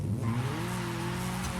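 A racing car in a video game spins out, driven on a PXN V99 steering wheel: a loud, steady engine drone with tyre scrub sustained throughout, no voices.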